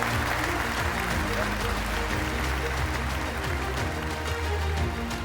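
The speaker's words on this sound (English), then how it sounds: "Clap for these children." A school audience applauds schoolchildren selected for a national-level competition at an Independence Day ceremony, steady sustained clapping throughout, with some voices mixed in beneath it.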